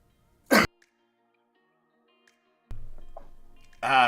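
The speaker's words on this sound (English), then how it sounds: "I gotta sneeze, guys." A single sharp sneeze bursts out near the start of an otherwise quiet stretch, followed later by a low hum and a brief breathy noise at the end.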